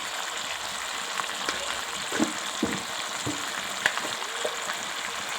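Spices and eggs frying in a pan for an egg and lentil curry, a steady close sizzle with a few soft stirring clicks and scrapes scattered through.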